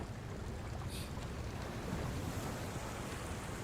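Sea waves from a song's music video roll as a steady, broad wash of surf and wind noise, continuous and fairly faint, with no voices.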